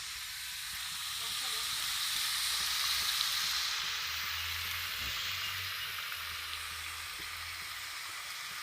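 Chilies hitting hot oil give a steady, close sizzle and hiss that swells and then holds evenly for several seconds, with a faint low rumble underneath and no talking.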